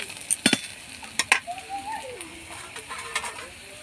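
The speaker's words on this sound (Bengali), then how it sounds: "পেঁয়াজগুলো ভাজা হয়ে গেছে" Chopped onions fry in a pan over whole spices, a soft sizzle broken by sharp scraping clicks of a spatula stirring against the metal, with a faint voice underneath.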